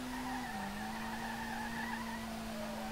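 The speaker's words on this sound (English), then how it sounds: "But the car slides so well." Tires squeal in a long steady skid as a car drifts in the driving game SLRR, with a loud continuous engine drone holding one pitch and dipping briefly early on; no voices.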